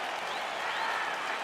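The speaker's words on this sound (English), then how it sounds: "crowd getting excited as this fight gets underway" The arena crowd in EA Sports UFC 4 roars and applauds as a fight gets underway, a dense steady wash of cheering and clapping with faint whistles rising through it.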